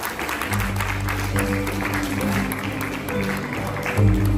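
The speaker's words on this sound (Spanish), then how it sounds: "damos un aplauso al hermano Humberto" Applause at a quinceañera reception ceremony, steady clapping from guests over low background music or hum, continuing evenly for several seconds.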